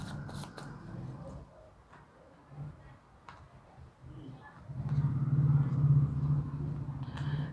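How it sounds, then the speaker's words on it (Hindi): Handmade cards are shuffled and drawn, giving a soft, papery riffling and rustling that grows louder and denser in the second half, with light taps and slides close by and no talk. "यहाँ हम कार्ड्स निकालेंगे।"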